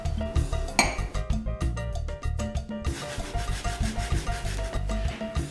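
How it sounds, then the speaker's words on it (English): Almonds being ground in an electric spice grinder make a rough, rattling whir. It pulses in quick repeated bursts, loud and close, with no talking. "I'm taking almonds and I'm grinding them in a spice grinder instead of a food processor"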